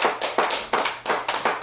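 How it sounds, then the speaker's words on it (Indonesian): Church congregation clapping in unison for Jesus at a gospel ministry service, loud sharp claps in an uneven rhythmic burst, close and without voices. "Tepuk tangan buat Tuhan Yesus."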